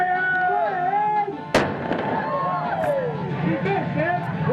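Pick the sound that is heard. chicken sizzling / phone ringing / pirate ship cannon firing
pirate ship cannon firing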